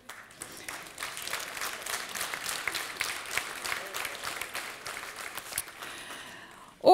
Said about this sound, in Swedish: Så stanna kvar och applådera de här unga forskarna